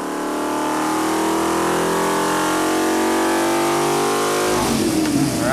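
A recycled 5.7L Hemi V8 pulls hard on a dyno, its loud, steady engine note climbing in pitch for about four and a half seconds before the throttle lifts and the roar breaks into a rougher, falling rumble.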